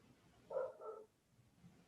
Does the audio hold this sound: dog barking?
yes